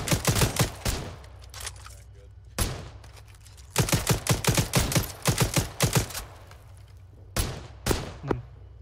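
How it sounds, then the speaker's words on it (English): Gunfire in the Arma 3 military shooter, with loud, close bursts of rapid automatic shots separated by short pauses and a few single cracks. "A shot from behind."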